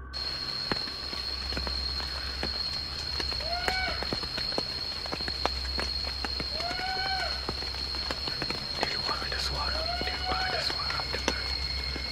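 Steady rain patters on a surface at a forest campsite, a dense continuous hiss with a low rumble throughout, broken by a few faint distant cries or calls.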